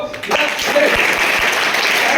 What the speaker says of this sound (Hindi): ताली पहली बजा सकते हो।